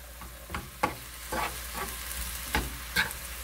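Mushrooms sautéing in a pan for a Korean side dish, giving a steady low sizzle with several sharp scrapes and clacks of a utensil stirring, close and moderately quiet, with no talking.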